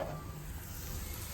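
Spices for a tempering sizzle in hot oil for a dal, a steady close crackling hiss that holds without pause through the moment.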